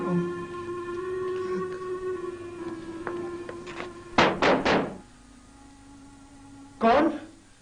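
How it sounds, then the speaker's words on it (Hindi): Knocking on a wooden door in a Pakistani drama: a quick burst of three firm knocks, then a single knock a few seconds later, over a steady background tone with voices around it. "कौन? दरवाजा खोल फकीरे"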